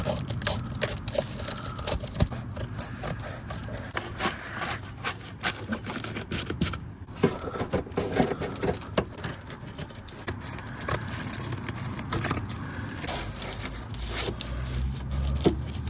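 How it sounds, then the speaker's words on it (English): Carpet being cut by hand inside a Fiat Doblo car camper, a close run of scraping, crunching rasps in irregular bursts, no speech. "I'm going to cut this carpet because it's just getting in the way"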